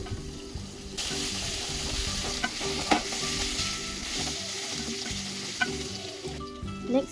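Dried red chillies sauté in hot oil for Madurai-style chicken uppu kari, giving a constant close crackling sizzle with occasional spoon scrapes and taps against the pan.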